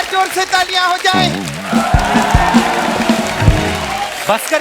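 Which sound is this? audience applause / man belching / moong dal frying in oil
audience applause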